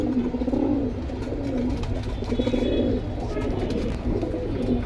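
A silver Afsan Baga pigeon coos in soft, rolling phrases that repeat every second or so, close by against a low steady background hum.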